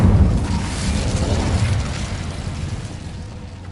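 An Incendio fire spell goes off in Hogwarts Legacy, a loud booming burst of flame that rumbles deep and then slowly fades over a few seconds, with no voices over it.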